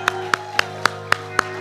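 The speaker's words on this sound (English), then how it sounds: "I think we ought to give a round of applause right now" Slow, evenly spaced claps ring out at a church morning worship service, six sharp hand claps about a quarter second apart, close and clear over a steady low musical hum.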